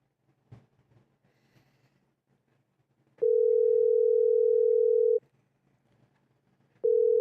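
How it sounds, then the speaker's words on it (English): An outgoing phone call to a scammer rings out. Two long steady electronic ring tones sound clearly, the second cut short, with faint background noise in between. "Let's see if this guy picks up the phone."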